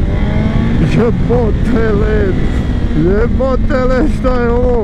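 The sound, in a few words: Suzuki Hayabusa Gen 3 motorcycle revving its engine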